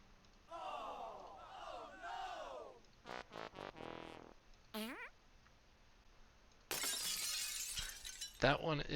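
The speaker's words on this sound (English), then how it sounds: "That one is part of the glass break on one of the D20 option, or one of the options with Dice So Nice" Glass-break effect from a Dice So Nice D20 roll in Foundry, set up for Curse of Strahd: a loud, bright shattering crash near the end. Other playful cartoonish effects and voice-like cries come before it.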